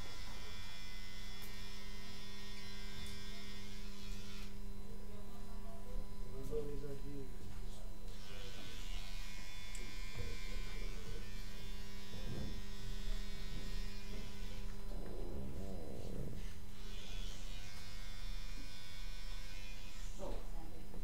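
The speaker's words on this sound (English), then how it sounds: "It's a 2-speed trimmer too." A two-speed electric hair trimmer drones steadily at a barbershop for the whole stretch, a constant hum with brief changes in pitch and load, while people talk over it.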